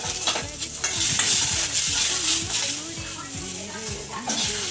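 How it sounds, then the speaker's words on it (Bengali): Eggplant fries in oil on a wood-fired clay stove at a birthday gathering, a loud continuous sizzle with stirring, while a voice talks over it and rising chirpy tones repeat in the background. "এরপর আলু ভাজা হয়ে গেছে, আর তারপর বেগুন ভাজছে।"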